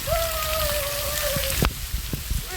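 Heavy rain pours down in a steady, dense hiss of drops hitting surfaces nearby, with a thin whistling tone over it for the first half and a few sharper knocks and splashes later.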